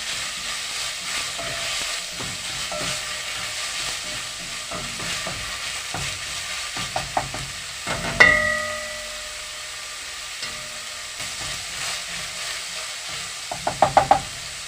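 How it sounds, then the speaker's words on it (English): Chopped onions frying in a pan for spaghetti bolognese are turned and stirred, giving a steady low sizzle with scattered scraping knocks of the utensil, a sharper clatter midway and a quick run of taps near the end. "So next I'm going to pour in my chopped onions."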